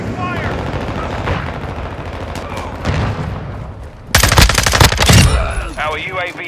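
Rapid automatic gunfire and sharp shots crackle in Modern Warfare II ground war combat, with a distant exchange followed by a loud, close burst, and in-game voices call out over it.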